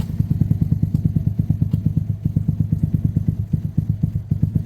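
A Herald motorcycle engine idles close up, a steady rapid thumping pulse that runs alone and even throughout.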